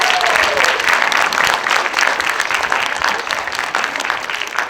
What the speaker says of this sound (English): A round of applause, please, for Alan, Jaden, Joanne, and Junsu.